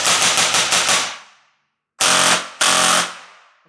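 A gel blaster toy gun fires a quick burst of about six sharp snapping shots, then after a pause two more single loud cracks with short decaying tails, close and without talk.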